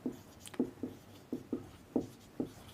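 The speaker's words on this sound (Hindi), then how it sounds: "चलिए इसको डिफिनेशन को लिखते हैं।" A pen writes a definition by hand, producing soft, close scratching strokes in a steady series of short bursts, quiet and alone.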